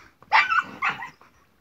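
A dog lets out two sharp, close barks in quick succession, the second slightly softer, followed by a brief low rumble before quiet.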